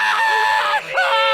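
A rooster crowing, told as part of a Grimm fairy tale about the Bremen town musicians, a short loud strained call with a sliding pitch, close and alone.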